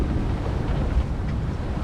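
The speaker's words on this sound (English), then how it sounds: "It's a bit squally here and there, so the wind picks up a bit." Squally wind of 20 to 21 knots gusts across a reefed sailing boat on the open Atlantic with 2 to 3 metre swells, a steady, loud, rumbling roar buffeting the microphone throughout, with no voices.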